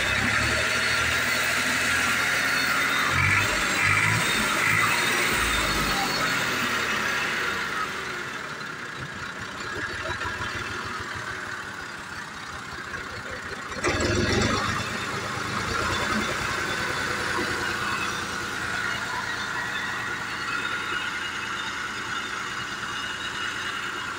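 A Massey Ferguson 350 tractor engine idles with a continuous rough, throbbing rumble close by, briefly revving partway through before settling back.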